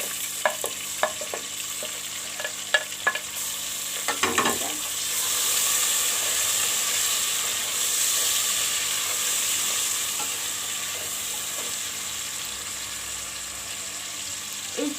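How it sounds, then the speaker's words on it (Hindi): Tomato and garlic being fried and stirred into a masala for an aloo chicken curry: a few spoon knocks against the pot, then a steady close sizzle that swells and settles, with no talking. "अब जी इसके बाद डालेंगे हम इसमें टमाटर और लहसुन"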